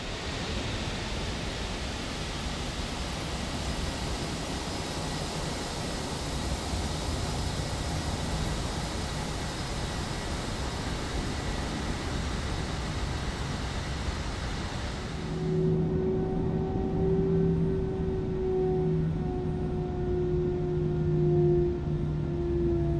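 Steady broadband jet engine roar from an Airbus A320 taxiing to the runway in a flight simulator, constant and even, shifting to a lower tone with faint humming drones near the end; no talking.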